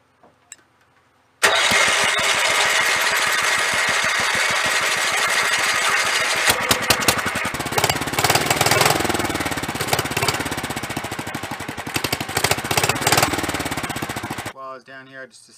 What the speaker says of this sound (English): I'm going to hold the throttle to fast idle, and we're going to try to crank it up